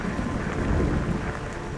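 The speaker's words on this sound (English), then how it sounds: "the rain's getting harder and harder" Heavy rain falls as a dense, steady roar mixed with wind buffeting, loud and continuous throughout with no pauses.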